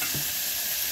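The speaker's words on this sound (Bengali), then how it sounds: "টমেটো কুচিগুলোকে দিয়ে দেবো, টমেটোটা ভেজে নেবো" Chopped tomatoes fry in a hot pan with a continuous close sizzle and hiss, plus a brief stir near the start.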